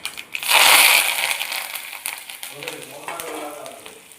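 Crushed ginger, garlic, onion, curry leaves and green chillies drop into hot oil with a loud burst of sizzling for a Kottayam-style fish curry. The frying then settles into a softer crackle with stirring and a faint voice.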